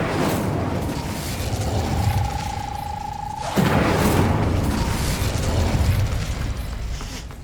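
A fire spell cast in Hogwarts Legacy gives a rising tonal hum that ends in a loud, sudden whoosh-boom burst of flame, followed by crackling rumble that fades slowly.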